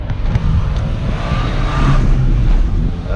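Peugeot car on a test drive, engine and road noise heard from the cabin with a slight rise in pitch as it accelerates, loud and close.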